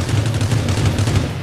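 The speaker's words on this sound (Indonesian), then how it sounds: "Tembakannya deket bener." Close, rapid gunfire in the shooter video game Rules of Survival, a dense loud burst of shots with no talk.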